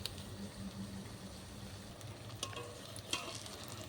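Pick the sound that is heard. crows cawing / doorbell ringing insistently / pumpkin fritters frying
pumpkin fritters frying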